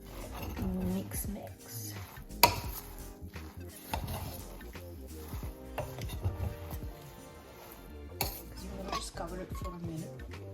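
Utensils clink and scrape against a bowl and dishes as breakfast food is mixed with squeezed lemon, giving irregular close clatters with a voice talking over them.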